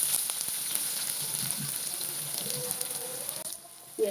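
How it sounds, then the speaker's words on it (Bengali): Chopped onions fry in about four tablespoons of oil with cardamom, cinnamon and bay leaves, giving a steady close hiss and sizzle, with faint stirring scrapes and a quieter stretch at the end. "পেঁয়াজটাকে হালকা ভেজে নেব।"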